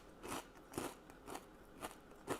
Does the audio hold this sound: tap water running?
no